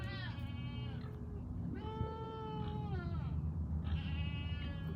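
Goats and sheep bleat over and over on a noisy farm, several wavering cries overlapping close by over a constant low rumble of livestock.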